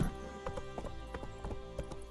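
Roach the horse gallops in The Witcher 3 video game, its hooves beating a quick, steady clip-clop rhythm close up under faint background game sound.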